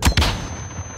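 Two quick sniper rifle shots crack out in a video game, close and loud, each followed by a short decaying tail.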